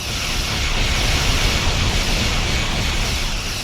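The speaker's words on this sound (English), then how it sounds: "Explosion." A sustained, loud blast from a space battle in the Star Trek Online video game, a dense broadband roar that holds steady for several seconds without letting up.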